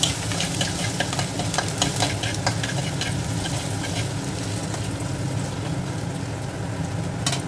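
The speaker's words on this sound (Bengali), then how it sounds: "এবার এর মধ্যে আমি প্রথমে আদা কুচিটা দিয়ে দেবো।" Chopped ginger fries in hot mustard oil in a kadai for Mughlai paratha, giving a steady, dense sizzle with scraping stirs throughout, close and fairly loud, with no voices.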